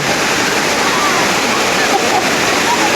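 Floodwater rushes loudly and continuously during a thunderstorm, a dense, close roar of churning water filling the whole stretch.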